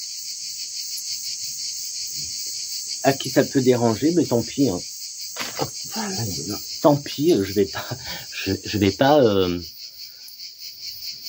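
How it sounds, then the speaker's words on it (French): Cicadas buzz in a continuous loud, shrill drone through the whole stretch, beside lavender cuttings, while someone talks over it in the middle section. "ça me dérange absolument pas qu'il y ait des cigales dans les vidéos, qu'on les entende"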